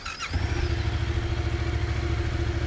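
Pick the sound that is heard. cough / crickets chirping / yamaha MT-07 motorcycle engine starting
yamaha MT-07 motorcycle engine starting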